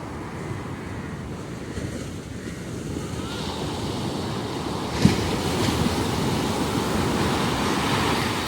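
Ocean waves wash in steadily on Narbona Beach, a constant rolling surf roar with some wind rumble on the microphone and a slight swell in loudness toward the end.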